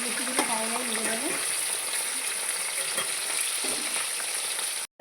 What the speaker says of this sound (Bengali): কড়াইতে তেল দেওয়া হয়ে গেছে, তেলটা গরমও হয়ে গেছে। এবার আমি মাছগুলো একটা ছেড়ে দেবো।